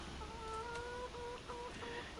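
Chickens clucking in Farming Simulator 25, a series of short, evenly paced clucks from a few birds at moderate distance over steady background noise, no talking.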